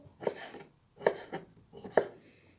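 Three short bursts of knife chopping vegetables into small pieces on a board, evenly spaced, close and clear with quiet gaps between.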